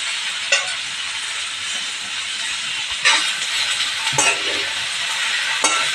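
Besan-coated okra sautéing in oil gives a steady hissing sizzle, broken by several spatula scrapes and knocks against the pan, with no one talking.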